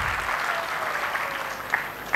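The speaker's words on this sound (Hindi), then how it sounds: "एक बार अपनी तालियों से बताएं कि आप मेरी बात से सहमत हैं" Audience applause at a conference on Buddhism fills the clip, a continuous crackle of many hands with a couple of slightly louder claps near the end.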